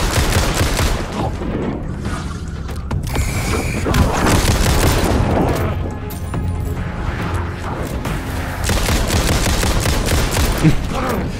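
Dense, loud gunfire from the survival horror game Alan Wake 2, rapid shots and booming blasts rolling continuously with a short lull midway, a voice talking over the action.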